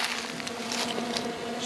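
Honey bees buzz in a steady, dense drone around a clearing planted with fruit trees, a continuous close hum with no voices.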